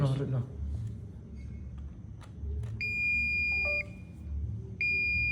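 A buzzer wired to an ESP32 board on an Arduino setup sounds two sustained high electronic tones, each lasting about a second, separated by a gap, after a brief voice and some faint clicks at the start.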